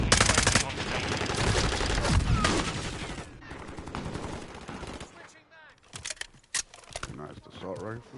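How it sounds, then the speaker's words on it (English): Assault rifle gunfire in Call of Duty MW2 beta crackles in dense rapid bursts for the first few seconds, then breaks into scattered sharper shots and clatter, with other game sounds and voices mixed in. "Nice assault rifle."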